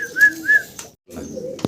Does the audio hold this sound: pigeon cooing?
yes